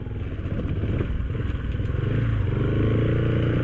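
A scooter putters and clatters close by on a street near Sangab cave, its engine note building and holding steady as it rides past, with no talk over it.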